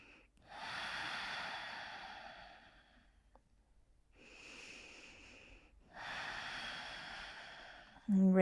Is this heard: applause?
no